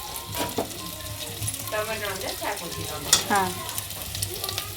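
A mixture with green chilli being stirred in a pan, frying with a steady sizzle under repeated scraping strokes of the spoon, close and continuous, with a brief voice in the background.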